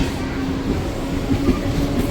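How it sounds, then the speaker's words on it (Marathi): A Panvel–Vasai Road MEMU train running past at a station, a loud steady rumble of wheels and carriages with faint rhythmic clatter and a low mechanical drone. "बघा, ही ट्रेन चाललेली आहे वसईला."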